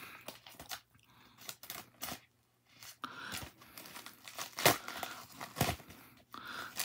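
Scissors cut open a package during an unboxing, with crinkling, tearing plastic and cardboard and sharp snips in an irregular run of close, fairly quiet sounds and short pauses.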